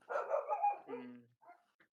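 Dogs barking in a home behind a gaming podcast, a burst of several loud, close barks followed by a fainter yip or two, with no talk over them.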